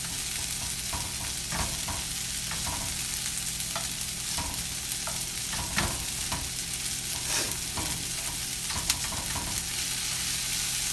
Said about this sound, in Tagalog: Luto na yung hotdog pero kailangan ko lang siyang initin.